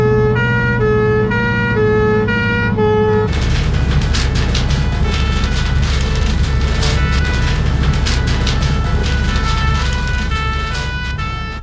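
Fire engine siren on a 13-tonne pump engine during an emergency response run, a loud steady two-tone wail giving way to a harsher, busier siren pattern with engine and road noise, close and continuous.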